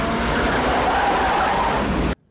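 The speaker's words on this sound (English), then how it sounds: "This is my 1987 Jeep J10 with a AMC 360 motor in it." A 1987 Jeep J10 full-size pickup with an AMC 360 V8 driving, a loud continuous engine roar with tire noise heard close up, holding steady for about two seconds before cutting off abruptly.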